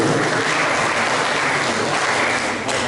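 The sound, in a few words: applause for debate candidate number 1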